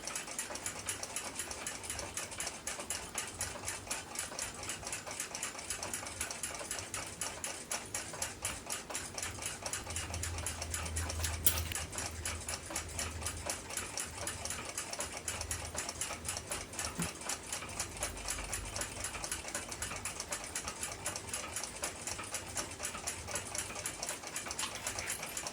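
A Sandoz desk clock, freshly started, ticks in a fast, even, unbroken rhythm, close and clear with a faint mechanical rattle in each beat and no other sounds.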